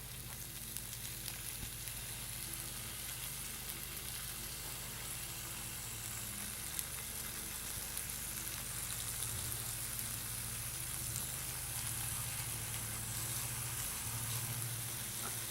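Bacon fries in a Dutch oven with a continuous, even sizzle and crackle, steady and moderately close with no talking.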